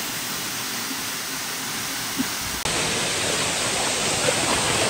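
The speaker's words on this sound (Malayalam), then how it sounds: "നിങ്ങളിപ്പോ വെള്ളച്ചാട്ടത്തിന്റെ ഉള്ളിലാണ്" Henrhyd Waterfall in South Wales pours with a dense, steady rushing roar heard close up, growing slightly louder partway through, with no voices.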